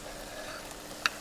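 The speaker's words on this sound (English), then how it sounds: "in goes the shallot after the fennel." Sliced fennel and shallot frying in a hot pan for sea bass with homemade pasta, a soft steady sizzle with one sharp click near the end.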